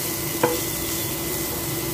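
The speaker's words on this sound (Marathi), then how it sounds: "आणि कांदा चांगला परतून घेते" Chopped onion sautéing in a pan with salt, asafoetida and turmeric for a home-style vegetable dish, a soft continuous sizzle close by with a single brief stir or scrape.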